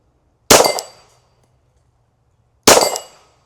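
A Glock pistol fitted with a Metatactical MX-1 carbine kit fires two sharp, close shots about two seconds apart, each with a short ringing decay, and no voices between them.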